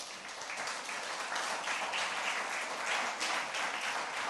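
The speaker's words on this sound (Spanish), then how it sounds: "Denle un aplauso, Señor." A church congregation applauding during a sermon, steady continuous clapping heard at moderate distance with fairly even intensity throughout.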